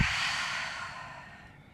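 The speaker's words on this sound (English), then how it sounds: "and breathing out." Slow exhale during a yoga flow practice: a soft, breathy rush of air that starts fairly strong and fades steadily over under two seconds, close and alone.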